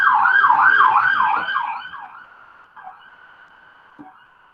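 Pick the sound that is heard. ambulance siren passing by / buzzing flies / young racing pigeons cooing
ambulance siren passing by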